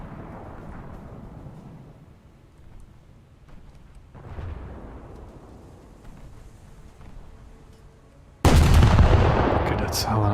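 Eight-inch naval guns fire in a warship battle game, each a deep, booming blast that rolls off into a long rumble, with a loud, harsh salvo near the end that keeps roaring.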